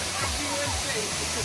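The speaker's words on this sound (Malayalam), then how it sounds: "എങ്ങനെയുണ്ട് വെള്ളച്ചാട്ടം?" A waterfall at Kanhangad roars in a steady, broad rush of falling water for the whole moment, with people talking over it.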